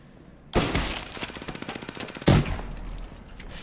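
A rapid burst of automatic gunfire in the tactical shooter Rainbow Six Siege, roughly a dozen quick rattling shots, then a heavier blast and a brief ringing tone as it dies away.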